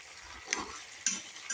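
Vegetables such as brinjal, potato, tomato, carrot and beetroot fry with onions in a pan, giving a quiet, soft sizzle broken by a few brief scrapes of stirring.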